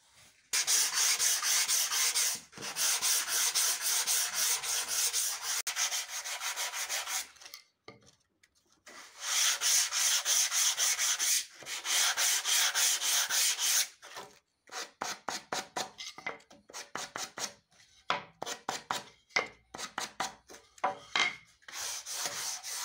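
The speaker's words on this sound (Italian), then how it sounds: "andiamo a carteggiare anche i bordi." Sandpaper rubbing along the edges of a wooden plaque, steady rasping strokes in long sustained passes, then a series of shorter quick scrubs toward the end, close and alone.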